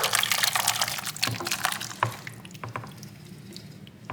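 Soupy spaghetti mixture poured from a pot into a sprayed 9x13 casserole dish, wet sloshing and dripping with soft squishy plops, fairly quiet and continuous, tapering off toward the end.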